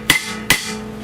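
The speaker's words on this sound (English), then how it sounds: "The old rotor is pretty stuck, so we hit it with a hammer." A hammer strikes a stuck front brake rotor on a 2012 Dodge Grand Caravan: two sharp, close metallic blows about half a second apart, each ringing briefly and with no talking.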